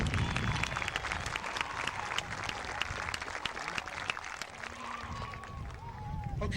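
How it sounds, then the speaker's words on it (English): An outdoor crowd at a youth baseball opening day applauds, dense clapping and scattered cheers rolling on steadily, with voices talking over the noise. "Let's give him another big round of applause."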